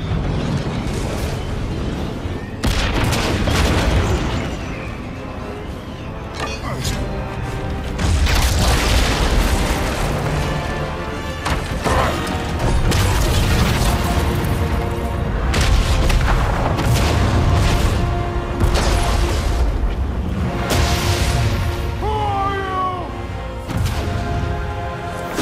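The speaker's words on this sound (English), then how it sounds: "The bomb!" Bomb blasts in God of War Ragnarök land as repeated deep booms and rolling rumbles over about 25 seconds, loud and close, mixed with crackling debris and game effects.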